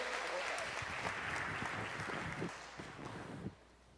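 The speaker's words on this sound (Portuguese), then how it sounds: "Você pode aplaudir mais uma vez o Senhor?" Steady clapping from a large church congregation, a dense wash of applause that thins out toward the end, with faint voices underneath.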